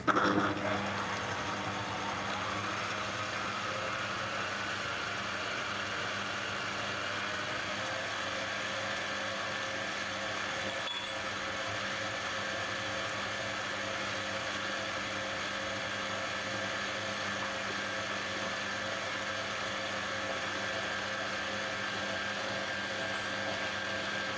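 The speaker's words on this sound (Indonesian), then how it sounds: "Kemudian di mixer sampai mengkilap dengan medium speed atau medium to high ya." An electric mixer at medium to high speed beats choux pastry dough with eggs and vanilla, giving a steady, continuous motor whine that holds nearly unchanged for the whole stretch, with no voices over it.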